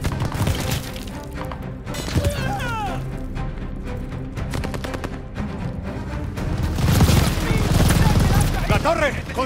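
Sustained machine gun fire from a tower in the Call of Duty Vanguard campaign, loud dense bursts with booms and impacts running throughout, mixed with shouted voices and battle noise.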